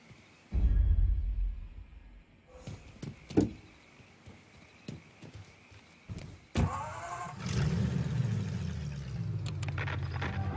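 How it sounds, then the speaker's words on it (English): A car engine in the video game Mafia III cranks and starts partway through, settling into a steady low idle rumble after a few scattered knocks and door-like thuds. "Here's your car, boss."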